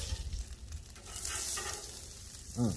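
Steak and shrimp cooking on a Blackstone flat-top griddle, a steady close sizzle with brief scraping and tossing sounds, ending in a short louder clatter.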